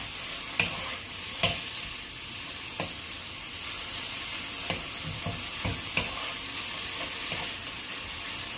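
Dried pollack frying in sesame oil in a pan gives a steady close sizzle, broken by scattered scrapes and taps of a utensil as it is stirred. No one speaks.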